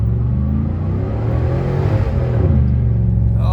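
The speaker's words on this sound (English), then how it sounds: "Oh, hit the rev limiter." A junkyard LS-swapped 2005 Chevy Silverado with a Truck Norris cam revs hard and loud up close, a steady dense engine roar climbing and bouncing off the rev limiter.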